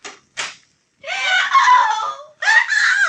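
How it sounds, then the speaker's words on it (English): A woman screams in a radio drama, a short sharp cry followed by two long, loud, wavering screams that fill most of the clip, with brief gaps between them and no talk over them. "What was that scream I just heard?"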